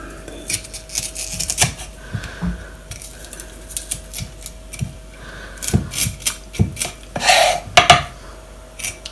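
A knife cuts the seeds out of chili peppers on a board, making irregular sharp taps and clicks up close with quiet gaps between them, and a louder clatter near the end.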